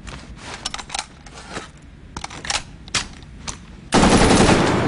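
Fully automatic gunfire in the video game Medal of Honor Warfighter: loud, rapid bursts of shots in quick succession, ending in a sustained dense roar of continuous fire.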